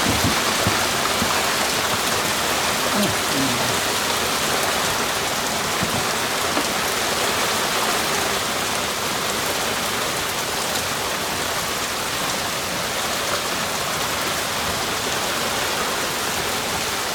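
Steady, dense rain pouring down on a rice paddy, a continuous hiss of drops on surfaces with no voices, constant and loud throughout.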